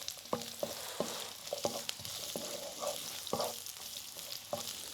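Onions and mixed vegetables with tofu stir-fry in a hot pan, a steady sizzle punctuated by regular scrapes and knocks of the spatula tossing the food, close and continuous.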